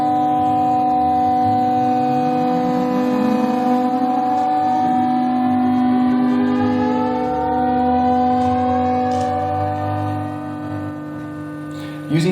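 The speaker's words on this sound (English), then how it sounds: "You can hear the subways passing through 10 meters of concrete." Low electrical hum with many slowly gliding tones rising and falling together, a steady droning whine that swells and sweeps as subway trains pass through 10 meters of concrete.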